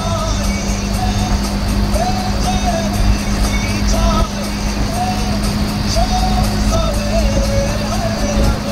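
An auto rickshaw driving at about 70 km/h on a road through a tunnel: loud, steady engine drone and road rumble throughout, with faint higher whines and clatter from passing traffic.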